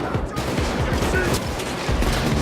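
Rapid bursts of gunfire from the video game Payday 2, a dense run of overlapping shots fired in quick succession, loud and continuous, with a voice faintly underneath.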